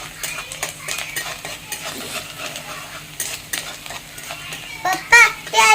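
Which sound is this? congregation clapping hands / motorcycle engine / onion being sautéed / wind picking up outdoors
onion being sautéed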